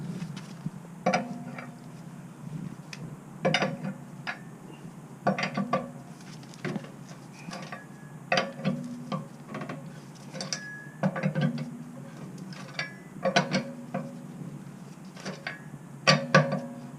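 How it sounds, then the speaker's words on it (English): A hand tool repeatedly clicks and ratchets while loosening the fastenings on a flat tire, with short bursts of rapid mechanical ticking separated by brief pauses. "Let me loosen the tires first."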